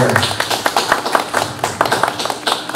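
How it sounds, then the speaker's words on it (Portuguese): A small group at a zine event clapping for themselves, close and loud, with distinct, fairly quick individual claps forming a lively, uneven burst of applause. "uma salva de palmas de nós para nós mesmos aí, nessa turma aqui"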